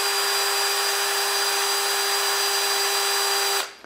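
A well-used cheap cordless drill that has been dropped, running in first gear under no load, gives a steady, loud motor whine that holds constant for several seconds before cutting off abruptly near the end.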